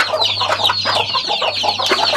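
Native chickens at a chicken farm cluck continuously in overlapping bursts from several birds near the microphone, with a low steady hum underneath.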